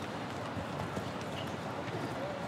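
A show jumping horse on course at an FEI Nations Cup event in St Gallen gives faint hoof thuds under a broad crowd and arena ambience, with speech nearby.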